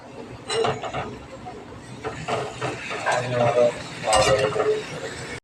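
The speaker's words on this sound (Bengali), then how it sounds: "লুচি ভেজে নিচ্ছি আমি।" Luchi frying in a pan of oil, a soft sizzle mixed with repeated scraping and clinking of a metal utensil against the pan, close up, in uneven bursts.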